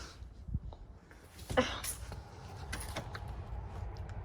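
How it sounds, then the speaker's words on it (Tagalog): A house door swung shut indoors, with a creak and a sharp thud of the latch near the middle, then quieter rustling and faint handling noise; no talking. "Hindi pala namin sinara yung pinto. Wait, sara ko lang."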